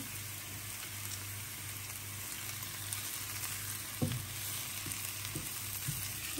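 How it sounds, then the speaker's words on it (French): Onions sautéing in a pan, a faint, steady hiss of frying with a low hum beneath and a few soft utensil knocks and stirs toward the end. "On va faire revenir les oignons."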